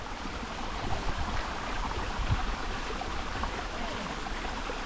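A wild, unmarked waterfall in the woods pours with a steady, broad rushing roar, constant and fairly loud throughout, with slight swells in intensity and no voices over it.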